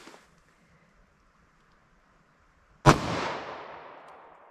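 A single .357 SIG pistol shot from a 5-inch barrel, loaded with Hornady 147 gr XTP ammunition, cracks sharply outdoors and leaves a long decaying echo after a quiet lead-in.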